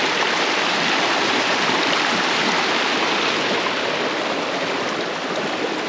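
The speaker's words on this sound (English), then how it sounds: "The waterfall is literally right there in front of me." A waterfall roars nearby, a loud and constant rush of falling water with no breaks.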